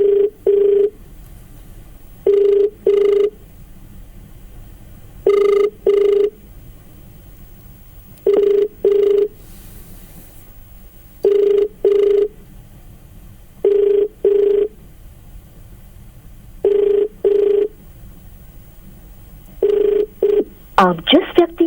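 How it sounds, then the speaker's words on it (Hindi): A telephone rings out on a call to a police superintendent, the paired ring bursts repeating at a steady rhythm, loud and clear, over a faint background hiss and brief noise near the end. "जो आप सुन रहे हैं SP साहब को रिंग जारी"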